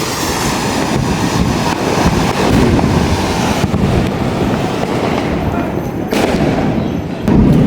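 Fireworks bursting in front of houses across Chennai during a celebration: a continuous, dense wash of crackling and popping from many distant sources, steady and loud, mixed with heavy wind rumble on the microphone.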